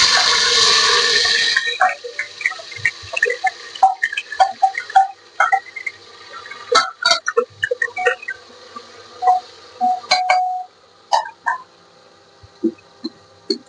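Rice is poured into a cooking pot in a home kitchen, a loud rushing pour that stops and leaves scattered grains ticking and clicking against the pot.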